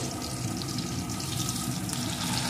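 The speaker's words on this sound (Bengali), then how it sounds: "এখন লাল লাল করে ভেজে নেব" Potatoes with chopped tomato frying in oil for a cabbage and potato curry, a dense steady sizzle with faint crackles, close and continuous, no talking.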